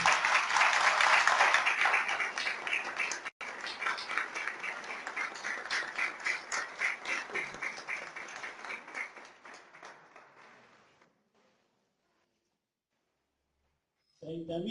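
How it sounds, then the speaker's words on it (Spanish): An audience at a remembrance and identity festival applauds loudly and steadily for a son and granddaughter being honoured, a dense clapping that gradually thins and fades out over about ten seconds, then near silence. "Fuerte el aplauso para ellos."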